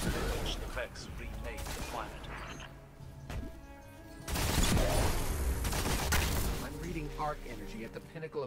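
Gunfire and explosive blasts from enemies' axe shields bursting in a Destiny Nightfall strike on the Garden World, dense and continuous, with a louder burst midway and voice-like game sounds mixed in.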